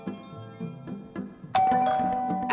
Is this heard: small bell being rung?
yes